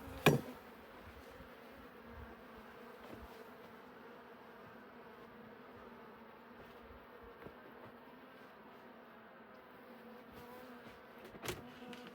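Honey bees hum steadily during an autumn hive inspection, a low continuous drone close by with a couple of brief knocks from handling the hive, and no talking.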